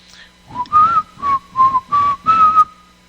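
A person whistles a short tune, five clear sustained notes in a steady rhythm, close and alone against a quiet background.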